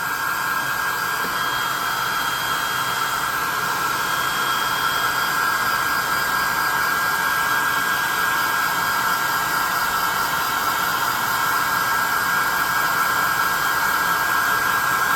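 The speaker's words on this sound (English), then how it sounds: "I'm going to hit this guy and dry him off some before we do the base. +2 hot air gun of burning." Hot air gun on medium heat blowing across a painted tabletop miniature, making a loud, steady, unbroken rushing whir that runs alone for the whole stretch.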